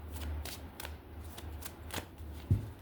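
Tarot deck being shuffled up close, a steady run of soft riffling card flicks in quick repeated bursts, ending with a light tap as the cards settle, no speech.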